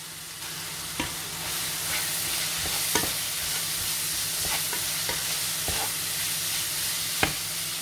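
Carrots and chili frying in a pan, with steady close sizzling and scattered stirring clicks and scrapes from a utensil; no talk.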